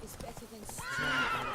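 Roach, a horse in The Witcher 3, gives a short whinny over soft clip-clopping hooves, close and brief, with someone talking just before.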